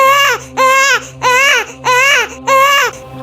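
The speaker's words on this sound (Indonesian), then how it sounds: "Bercampur dengan suara tangisan bayi." Infant wailing in a horror story sound effect, five loud rising and falling cries in a regular rhythm with short gasping pauses between, close and alone over a low background hum.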